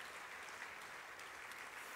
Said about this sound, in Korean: 다시 한번 박수 부탁드리도록 하겠습니다.